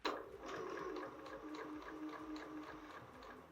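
A sewing machine stitches a patchwork block, giving a faint, steady, rapid mechanical ticking that runs evenly throughout at low volume.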